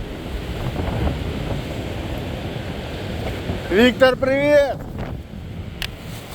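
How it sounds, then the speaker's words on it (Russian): Strong storm wind on a seaside embankment roars and buffets the microphone as a constant, heavy rush, with a person calling out briefly partway through. "Ветер уносит мои слова."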